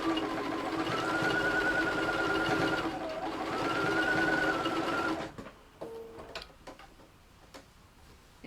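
A sewing machine stitches a Japanese omiyage bag, running loud and steady in two long close bursts with a brief dip between, then stopping into quieter clicks and handling noises.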